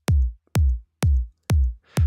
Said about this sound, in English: So the kick I'm using is from their sample pack, Tropical House Percussion, and it's number 8.